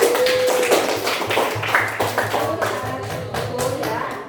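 A classroom of students applauding together, a dense run of claps that holds fairly steady for a few seconds and fades slightly toward the end, with a faint voice in the room.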